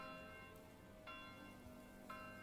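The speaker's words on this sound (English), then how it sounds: "Why is the bell ringing?" A church bell tolls faintly in a medieval village in the game Manor Lords, striking roughly once a second over soft ambient background, with no voices.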